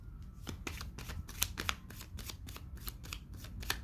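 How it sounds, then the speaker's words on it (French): Oracle cards handled and shuffled up close, a run of crisp riffling flutters and soft slaps repeating steadily, with no voice over them. "Avec celui-ci, je vais prendre 9 cartes."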